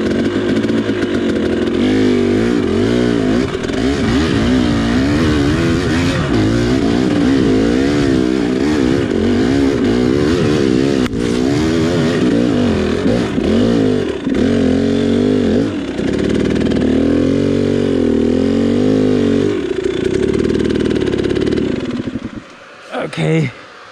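Dirt bike climbing a rocky hill in low gear at Tillamook, the engine loud and close, buzzing and revving unevenly throughout, with the rider talking over it before it cuts out near the end.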